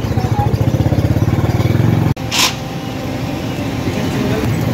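A motorcycle engine idles with a rapid, steady low thumping at close range, then cuts off abruptly partway through, leaving quieter outdoor background noise.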